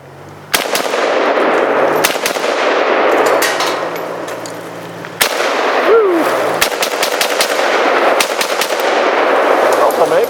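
An AK rifle fires outdoors near hay: loud, close bursts of gunfire with sharp onsets, each followed by a long ringing decay and metallic clangs.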